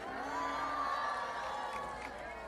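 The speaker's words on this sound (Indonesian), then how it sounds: "Tepuk tangan untuk Mbak Ika" Audience clapping and cheering at a talk event with a preacher on stage, a steady dense crowd wash with scattered whoops that holds at an even loudness for the whole stretch.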